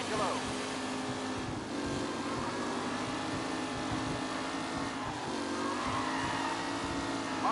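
Race car in the Mafia Definitive Edition video game driven aggressively, a loud continuous engine drone that rises and falls in pitch as it revs, with faint tire noise and no talk.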